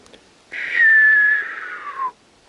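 A person whistles a single long, steady note that slowly glides downward, imitating a white signal flare's whistle, loud and close.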